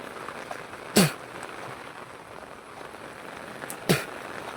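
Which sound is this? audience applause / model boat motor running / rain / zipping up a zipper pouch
rain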